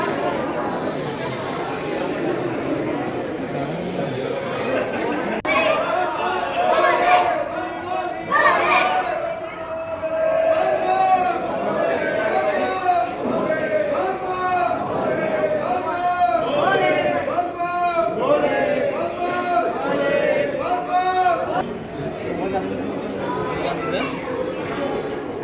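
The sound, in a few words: crowd chatter in Shirdi temple darshan corridor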